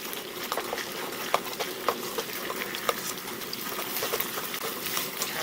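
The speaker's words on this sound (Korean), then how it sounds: "자, 이렇게 전체적으로 볶듯이 풀어주세요." Meat stir-fried in a hot pan for chive japchae, a Chinese-style dish, giving a steady sizzle with scattered sharp clicks and scrapes of the utensil, close and continuous with no talking.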